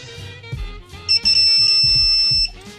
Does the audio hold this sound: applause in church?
no